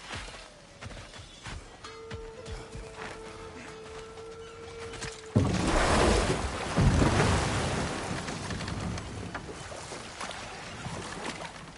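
A waterfall in the video game God of War Ragnarok begins with faint tonal game ambience, then a loud rushing roar of water sets in abruptly partway through and holds steady to the end.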